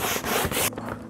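A hand brush scrubs a ceramic-coated car surface in quick, close back-and-forth strokes, loud and harsh, easing off near the end.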